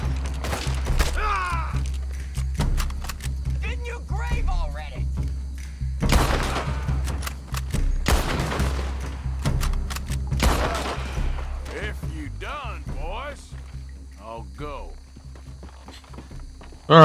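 Rifle gunshots from an old action rifle in the video game Red Dead Redemption 2, a few sharp cracks rising out of a steady bed of game ambience and footsteps, with someone talking over much of it.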